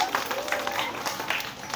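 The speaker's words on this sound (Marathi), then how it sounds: "टाळ्या वाजवा." Applause for a correct answer at a school quiz competition in a village primary school classroom, a steady wash of children's clapping lasting throughout, fairly even in loudness, with some voices mixed in.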